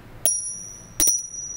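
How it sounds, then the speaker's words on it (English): Two hard jade pendant pieces strike together twice, each a bright, ringing clink with a high sustained shimmer that lingers between hits, close and clear with no talk. "as they walk, sometimes the two pieces stretch together, then we will create a prolonged sound"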